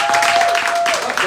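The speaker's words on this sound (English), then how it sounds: "let's give Brandon a round of applause" Brief burst of applause from an audience at a community launch event, dense clapping heard close for just over a second.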